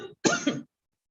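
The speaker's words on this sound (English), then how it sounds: "I had a little cough" A single close throat-clearing cough, one short rough burst followed by a second harsh push, then silence.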